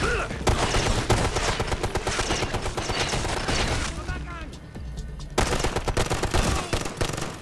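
Gunfire in the video game Tom Clancy's Ghost Recon Future Soldier during a jungle extraction mission, with dense bursts of automatic fire that pause briefly near the end, mixed with shouted voices and game sounds.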